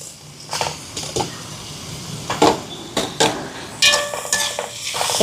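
Tomatoes tossed into frying ginger and garlic in a pan for a Jaffna chicken devilled dish, with close clinks and scrapes of a spoon against the pan over a light sizzle in intermittent bursts.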